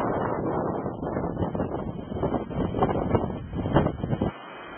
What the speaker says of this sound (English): Getting a little windy out on this point.